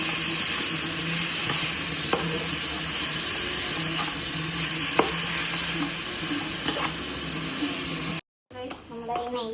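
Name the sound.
stirring grated carrot with sugar in ghee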